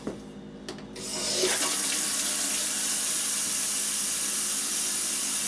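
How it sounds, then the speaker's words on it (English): Water gushes steadily from a repaired faucet, starting after a few clicks of the handle and settling into a loud, continuous hiss and splash that runs to the end. "There, now we have running water."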